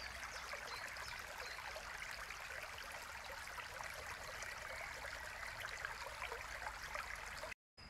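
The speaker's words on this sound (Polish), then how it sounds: "widok to jest strumyczek, który płynie wzdłuż całego mojego ogrodu" A small stream runs along the length of a garden in June, a steady, continuous trickle and gurgle of water that holds close and even throughout before cutting out briefly at the very end.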